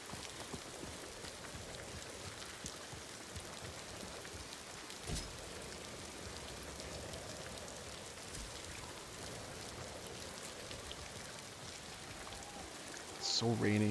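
Steady rainfall in the samurai game Ghost of Tsushima, a dense, even wash of raindrops pattering on surfaces throughout, moderately quiet and continuous.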